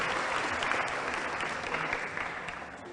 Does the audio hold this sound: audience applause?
yes